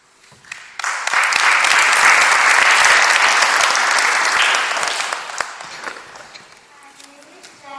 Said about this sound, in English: give yourself a pat on the back and a round of applause